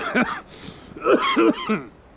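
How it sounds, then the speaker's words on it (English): A few short bursts of coughing or throat clearing, close and fairly loud, with a brief pause between them. "Every time I start a video, I start coughing."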